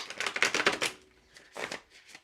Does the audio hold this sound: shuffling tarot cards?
yes